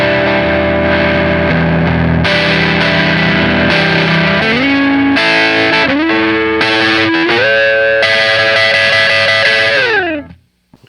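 An electric guitar plays a riff with fast upstroke picking through distortion and chorus effects, loud and sustained, shifting through chord changes before ringing out and stopping.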